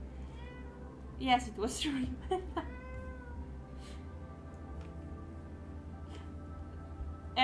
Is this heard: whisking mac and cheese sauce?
no